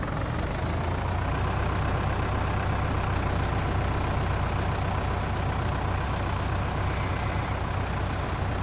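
A tractor in Farming Simulator 19 strains with a heavy load on the front, its engine running as a steady, loud, low drone with no break.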